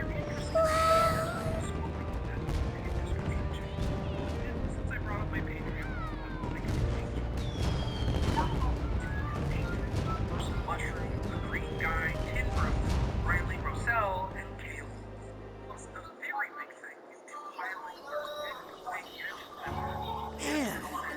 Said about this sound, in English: Man, I never saw fireworks from that close up before.